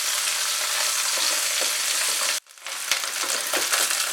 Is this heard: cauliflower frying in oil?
yes